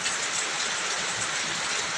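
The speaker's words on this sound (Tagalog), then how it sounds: "Umuulan na naman." Steady, dense hiss of rain falling, even and continuous throughout, with no voices.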